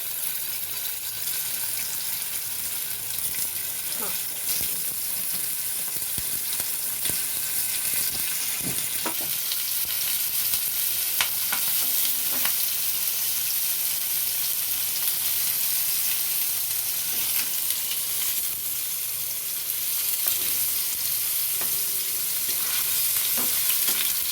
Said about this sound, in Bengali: হালকা হাতে একটু নেড়ে চেড়ে নিতে হবে পনিরগুলোকে